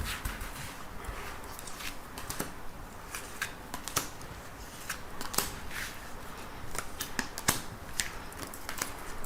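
Tarot cards handled and drawn from a deck: soft, close riffling and shuffling with crisp flicks and slaps of card stock in an irregular rhythm, quiet and with no talking.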